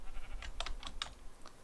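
Faint sheep bleats from Minecraft, a few short wavering cries spread over under two seconds, quiet and half-buried beneath steady clicking like keyboard typing.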